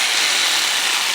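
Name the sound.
power tool cutting metal lengths to size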